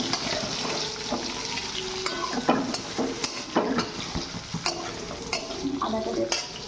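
Oil sizzles steadily in a pan while a utensil stirs and scrapes with repeated close, crisp strokes during Bengali basanti pulao cooking, with no talking.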